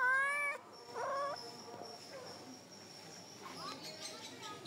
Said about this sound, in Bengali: এই দিকে আবার বিড়ালটা গাছের উপরে মেও মেও করতেছে মাছ খাবার লেগা।